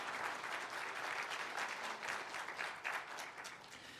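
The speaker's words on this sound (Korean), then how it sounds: "이 시간 감사의 박수를 성중환 장로님께 보내겠습니다." Church congregation at a retirement service for church officers gives a steady, full round of clapping that keeps going evenly from start to finish without a pause.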